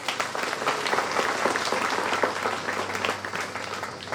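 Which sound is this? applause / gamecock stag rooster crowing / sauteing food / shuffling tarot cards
applause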